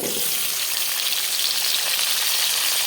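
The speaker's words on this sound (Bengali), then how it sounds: "আলুটা একটু ভেজে নেব।" Steady, loud sizzling of potatoes and green chillies frying in hot oil with black cumin, a continuous crackling hiss close by with no talking.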